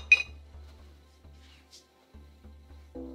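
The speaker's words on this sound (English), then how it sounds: "So let's start by putting our ice. I use these really big square ice cubes." Two large square ice cubes are dropped into a glass, giving a sharp clink at the start and a softer knock later, in an otherwise quiet kitchen with a low background hum.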